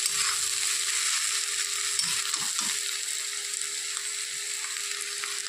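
Potatoes and onions fry in a pan, a steady loud sizzle throughout with a few soft scrapes of stirring and a faint background hum.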